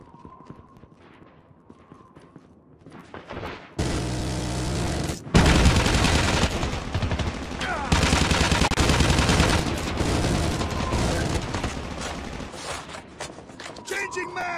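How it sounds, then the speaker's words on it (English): Sustained automatic gunfire from a sentry gun in Call of Duty Mobile, loud continuous rattling bursts over a minute-long firefight with a brief pause, preceded by quieter game ambience and a voice line. "Friendly sentry gun deployed."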